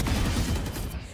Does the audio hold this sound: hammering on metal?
no